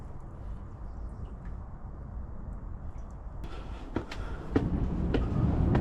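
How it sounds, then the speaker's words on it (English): A train rumbles steadily past at North Queensferry, its low roar building toward the end with a few sharp clanks and rattles of wheels on track. "Hey, it's busy with trains today."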